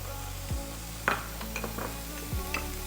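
Sliced onions sauté with crushed garlic and ginger in a pan for a dosa filling, under a soft steady sizzle broken by a few scraping stirs and metallic utensil knocks.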